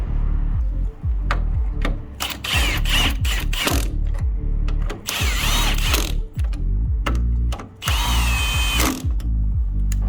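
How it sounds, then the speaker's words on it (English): A power tool whirs and ratchets in repeated loud bursts, tightening bolts while coilovers are installed on a Mini Cooper, with rising whines and clicking pauses between runs, close and without speech. "Be careful using power tools when tightening."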